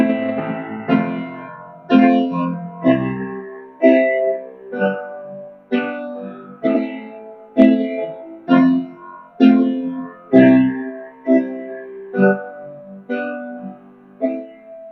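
Piano plays a song with a dotted quarter-eighth rhythm in the left hand, steady chords struck roughly once per second, each ringing and fading before the next, clear and alone.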